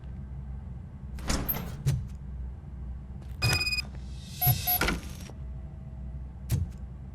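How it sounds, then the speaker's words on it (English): A door opens in the video game RoboCop: Rogue City, with several mechanical clunks and sliding whirs spread across a quiet room tone and no talk. "Now let me get that door open for you."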